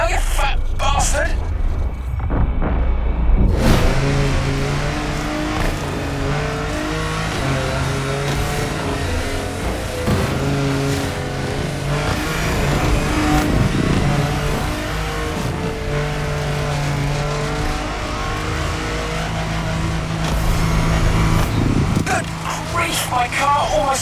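An off-road car races at full speed in The Crew Motorfest, its engine revving and shifting loudly throughout, with a player talking over the drive.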